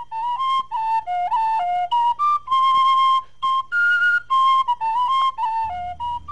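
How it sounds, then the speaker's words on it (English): Lively tin whistle tune from a video game score, quick runs of clear piping notes with a few longer held tones, loud and close, ending as a soft low rumble enters, no voices. "So we decided to use lighter instruments, like the tin whistle"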